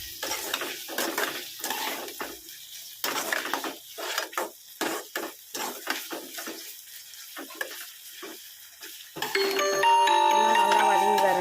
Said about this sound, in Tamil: நல்லா தக்காளி நல்லா மசிச்சு நல்லா வதங்கி வரட்டும்